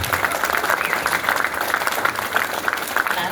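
Audience applause at a political speech by a Minnesota House District 5A representative in Wadena, with steady dense clapping from a crowd running throughout at moderate loudness.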